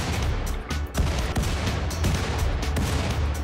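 Grenades exploding in RimWorld, a colony game played on sea ice, come as a dense run of sharp blasts and crackling bursts that overlap into a loud, continuous barrage with no talk.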